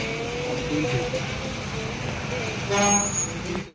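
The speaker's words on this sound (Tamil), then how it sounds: "இந்த இடத்துல இவ்வளோ டிராஃபிக்காக இருக்குது" Busy road traffic rumbles continuously with engines droning, and several vehicle horns honk, one loud blast near the end; voices talk underneath.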